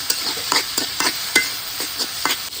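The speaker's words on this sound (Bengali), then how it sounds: "এই যে পেঁয়াজ ভেজে নিতেছে" Onions and lentils sizzle steadily in hot oil while a utensil stirs and scrapes the pan in regular strokes, close by.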